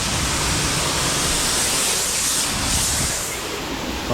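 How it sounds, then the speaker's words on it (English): A pressure washer with a fan tip rinses house siding, giving a loud, steady broadband hiss of spraying water that runs unbroken throughout. "see how I'm just rinsing off with my fan tip"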